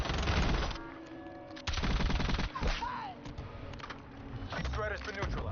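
Video game gunfire and contact fire during incoming cradle bombs: rattling bursts that stop and start, with sharp shots and sweeping effects, and speech-like voice lines mixed in at moderate level.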